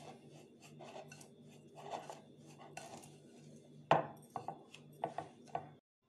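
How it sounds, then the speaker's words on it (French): Grated orange zest is stirred into sugar in a bowl, giving soft gritty rubbing and scraping, then a sharp clack and several light taps of a utensil before falling silent. "Je mélange afin que les huiles parfumées d'orange se mélange avec le sucre."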